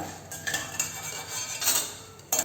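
Roasted urad dal being scraped out of a pan into another vessel, a few close metallic scrapes and clinks over a faint background hiss.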